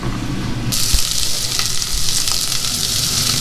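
Garlic sizzles and fries in a very hot pan, a steady loud crackling hiss that jumps up sharply partway through and continues close and busy with small pops, no talking.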